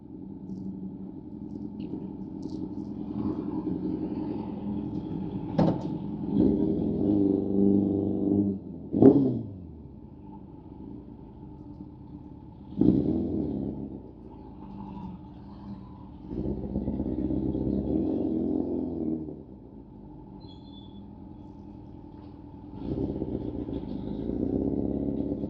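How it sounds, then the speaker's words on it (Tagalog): A big bike motorcycle engine idles and revs in repeated bursts, each rising to a loud throaty roar before settling back to a low rumble, with short quiet gaps between the bursts. "Ewan ko lang kung maganda yung tunog ng big bike natin dito sa gamit nating audio."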